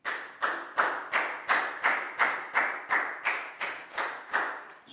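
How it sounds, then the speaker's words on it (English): A classroom of children claps for a student, a dozen evenly spaced sharp claps in a brisk unison rhythm, close and fairly loud, with no talking. "High five and a big round of applause for Pak Bung,"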